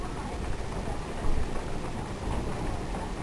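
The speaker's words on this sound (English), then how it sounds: "It's raining. It's getting heavy." Heavy rain during a spring thunderstorm pours steadily outdoors, a dense continuous hiss with a low rumbling undertone that swells briefly, without clear speech.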